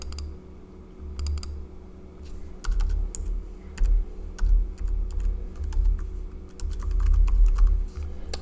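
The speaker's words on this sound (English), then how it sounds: "I've had troubles typing for some reason today" Rapid clicking of keys on a computer keyboard, typed in uneven bursts with short pauses, close by and fairly quiet.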